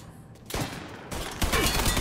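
Loud bursts of rapid gunfire from the video game Mafia 3 erupt in two clustered volleys, close and harsh, with no talk over them.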